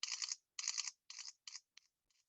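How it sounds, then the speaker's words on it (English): A camera shutter clicks open and shut in a short run of crisp mechanical snaps, each burst shorter and fainter than the last until they fade out, with no voices. "that shutter is that opening and closing of your camera"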